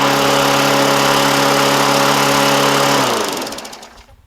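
Yard Machines by MTD push lawn mower engine, recently hydrolocked with a bent crankshaft, running loud at a high steady rev, then cutting off and spinning down to silence near the end.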